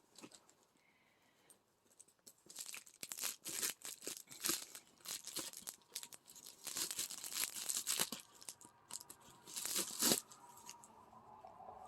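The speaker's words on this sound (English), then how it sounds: "Gonna use the scissors. And usually if I just start them, I can pull it open." Plastic shipping bag from an Amazon order being snipped with scissors and pulled open, a run of crinkling, rustling and tearing bursts close by, irregular and fairly loud, with no talk.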